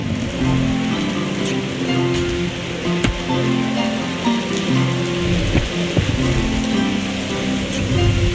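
Icy storm in the Dungeons 4 video game: steady, loud wash of rain-like hiss with low rumbling, continuous throughout with occasional sharper crackles, no voices.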